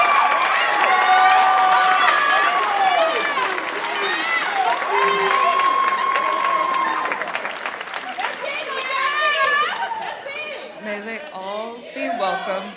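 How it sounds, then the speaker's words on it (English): Auditorium crowd applauding the newly tapped class at a university Tap Day ceremony in Jesse Auditorium, sustained clapping with some cheering and chatter, voices heard over the applause. "Please join me in one final applause for the 2022 TAP class of Mystical Seven."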